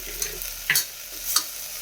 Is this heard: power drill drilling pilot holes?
no